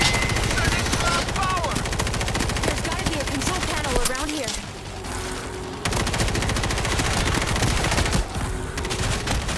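Dense, continuous automatic gunfire from the zombie shooter World War Z on a Marseille missile-command map, rapid bursts rattling nearly nonstop with a brief lull midway and faint in-game voice fragments.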